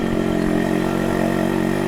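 A restored motorcycle engine idles close by with a sharp exhaust note, a steady, throbbing low rumble with no talking over it.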